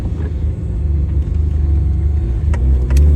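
Noble M12 GTO 3R sports car cruising at low city speeds, a steady deep engine rumble with a loud in-cabin drone and light road noise throughout.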